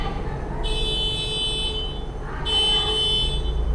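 A car horn honks outside in two bursts, each held for over a second with a pause between, sounding from beyond the room over a steady low background hum.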